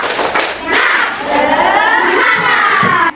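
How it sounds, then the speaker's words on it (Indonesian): Classroom of schoolchildren doing a rhythmic spirit clap chant together, a burst of group clapping mixed with loud excited young voices shouting in unison, close and energetic throughout. "1, 2, 3, tepuk semangat."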